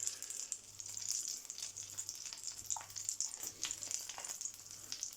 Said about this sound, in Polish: sam złowił pięknego leszcza i się smaży rybka